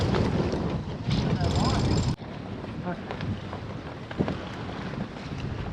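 A strong gust of about 18 knots strikes a sailing yacht at sea, a loud roaring rush of wind buffeting the microphone that drops off sharply partway through, then a steadier windy wash with water and hull noise.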